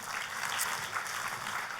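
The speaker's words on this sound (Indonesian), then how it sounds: "beri tepuk tangan untuk Tuhan" A church congregation breaks into steady, dense applause, many hands clapping together in a continuous roar that fills the room without pause.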